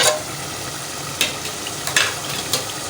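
Ridge gourd (tori) cooking in a pan over a low flame, giving a steady soft sizzle with a few brief stirring scrapes and clinks. No one speaks over it.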